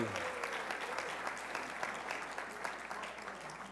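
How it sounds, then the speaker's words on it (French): A group claps for a pair of participants at a French-speaking church gathering, a lively even patter of hands that fades slightly toward the end, with a low background hum beneath. "Et on les applaudit."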